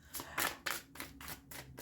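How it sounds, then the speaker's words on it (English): A deck of tarot cards is shuffled by hand up close, making a quick run of soft papery riffles and flutters in an uneven rhythm of five or six bursts, with no talk over it. "While I'm shuffling here"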